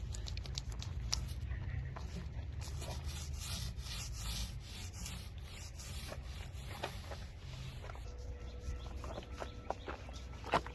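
Soft, continuous rubbing and rolling of a paint roller spreading wood stain over cedar garden beds outdoors, quiet and close, with faint birdsong in the background.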